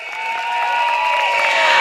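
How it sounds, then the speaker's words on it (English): A crowd at a PAP Sengkang GRC election rally claps and cheers. The applause swells gradually louder over a sustained, ringing tonal backdrop. "Let's give them all a round of applause."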